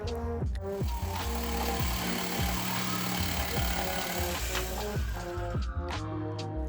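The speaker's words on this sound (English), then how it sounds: "I continued to jigsaw away." A jigsaw cuts through the wood panel of an IKEA Lommarp cabinet with a continuous close buzz and rapid chattering strokes that hold steady and then ease off near the end.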